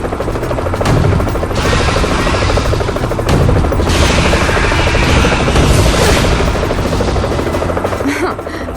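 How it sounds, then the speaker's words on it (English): Helicopter from the 2007 Resident Evil game The Umbrella Chronicles, its loud rotor roar filling the whole stretch amid dense game effects like booms and gunfire-like crashes, with no clear talk over it. "That helicopter is my ticket out of here."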